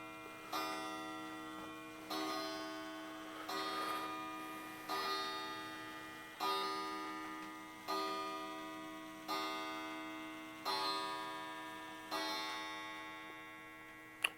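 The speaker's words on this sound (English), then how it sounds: "So that is the pendulum wall clock." A pendulum wall clock in a bike shop ticks in a slow, even rhythm, with about nine faint, resonant beats sounding alone in a quiet room.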